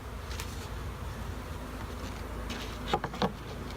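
Honeybees at an open hive while a super is added, a faint steady buzzing drone close by, with a few soft taps near the end.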